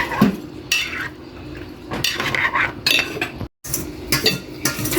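A spoon scrapes mixed fruit dessert into a serving bowl, with repeated metallic scrapes and clinks against the dish in irregular bursts and one brief silent gap.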